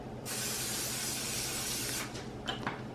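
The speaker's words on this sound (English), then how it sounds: "spray the bottom of your pan here" A can of cooking spray coats the bottom of a pan in one continuous hiss for about two seconds, close up, followed by a couple of faint clicks and short puffs.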